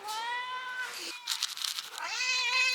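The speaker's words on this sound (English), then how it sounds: "She's been meowing at me this entire time." Pet cat Phoebe meows insistently for food, a long drawn-out harmonic cry, a brief pause with scuffling noise, then another rising meow close to the listener; no talking.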